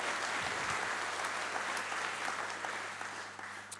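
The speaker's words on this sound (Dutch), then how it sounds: "Applaus" Audience applause at the close of a panel discussion at a symposium, steady dense clapping from a room full of people that tapers slightly toward the end, no speech over it.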